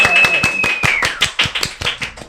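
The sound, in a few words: applause from the event audience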